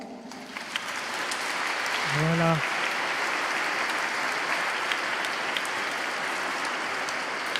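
A church congregation at a Toussaint service in Saint-André parish, Reims, applauds children, with sustained, dense clapping that swells after a brief spoken word and stays steady and loud throughout.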